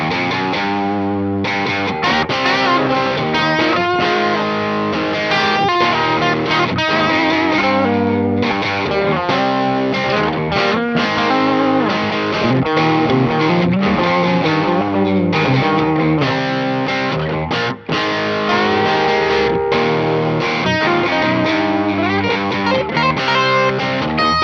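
Gibson SG electric guitars played through heavy distortion and effects, a dense, loud, continuous stream of driven chords and riffs with chorus-like shimmer, no voices.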